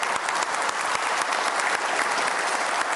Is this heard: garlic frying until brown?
no